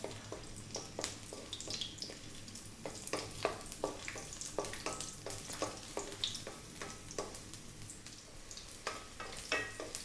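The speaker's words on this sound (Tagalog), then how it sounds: "Lalagyan na po natin yung ating crushed garlic. Medyo ito-toast lang natin siya ng konti bago tayo mag-add ng luya." Crushed garlic toasts in a hot pan with a soft, steady sizzle, broken by frequent clicks and scrapes of stirring, close and fairly quiet with no talking.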